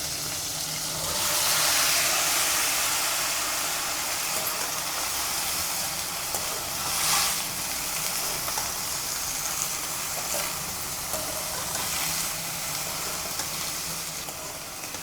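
Broccoli and capsicum frying in hot oil in a pan give a steady, close sizzle that runs without a break, hissing and crackling with small swells and a brief louder pop partway through, and no voices over it.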